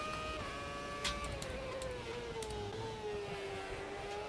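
A V8/V10-era Formula 1 car engine from the 2006 season in the AMS racing game screams as a high, steady whine that slides gradually downward in pitch, heard alone and fairly quiet.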